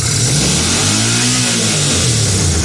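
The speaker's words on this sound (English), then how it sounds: "when you rev it up, you can tell it's overhead cam engine." A 2000 Kawasaki Vulcan Drifter 800 overhead cam engine revs up sharply and falls back, a loud, close mechanical roar with a rising then easing pitch.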